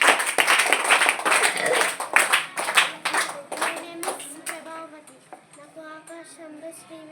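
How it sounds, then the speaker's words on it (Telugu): A group of children in a meditation class clapping in quick irregular bursts, loud at first then thinning out, while a voice talks. "వినాయకుడు కనిపించారు క్లాప్స్ క్లాప్స్ క్లాప్స్ క్లాప్స్"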